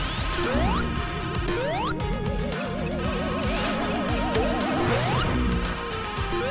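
Taking a hit and losing the shield in Sonic Mania's Titanic Monarch Zone, playing as Tails: a short crashing hit effect and scattering tones burst over busy, looping game music with rising synth sweeps.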